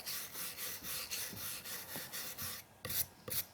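A hypertufa bowl's outer surface is scraped and roughened in repeated rasping, rubbing strokes at a steady rhythm, close and moderately loud, ending with a couple of sharper scrapes; no talking.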